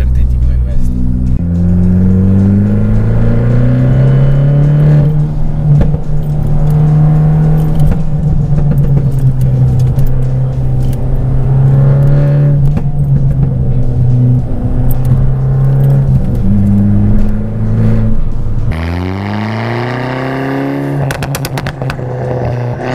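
An Abarth car, built on a Panda chassis, drives along winding roads with its engine droning loudly and steadily inside the cabin. The pitch rises and falls through gear changes, and a voice talks over it, followed by a sharp rev near the end.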